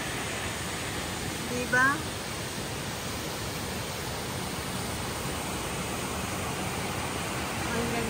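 The waterfall at Falls Park in Greenville, South Carolina pours in a steady, broad rush of white noise throughout, with a brief spoken word heard over it near the start.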